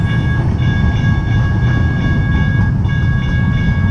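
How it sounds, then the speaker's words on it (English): A train rolls past at a crossing, a loud, steady heavy rumble with a faint metallic ringing tone above it, continuous and close throughout with no voices. "While we wait on the train to go here"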